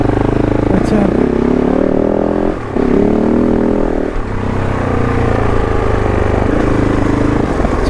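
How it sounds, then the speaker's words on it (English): KOVE 450 Rally adventure motorcycle being ridden, its engine and fairly loud exhaust droning steadily and close, with pitch shifts as the rider changes speed amid wind noise. "so I must say the exhaust does seem relatively loud."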